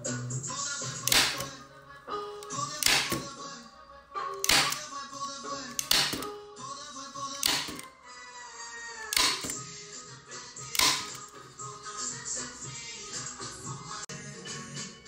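A staple gun fires into the corners of a wooden frame for a cane-panelled buffet cabinet, about seven sharp, loud clacks at irregular intervals with handling noise between.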